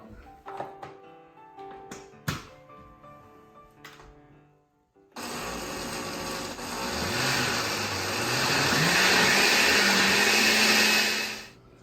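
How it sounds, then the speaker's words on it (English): A few clunks and knocks, then a blender switches on and runs loudly, its whirring motor climbing in pitch as it grinds mole coloradito sauce. "see if the blender does a little better job"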